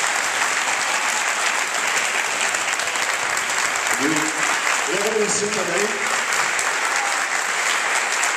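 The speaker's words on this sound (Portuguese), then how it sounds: "eu queria uma salva de palmas" A school audience at a SESC event applauds loudly and continuously, a thick sustained wave of clapping, while a voice speaks briefly over it near the end.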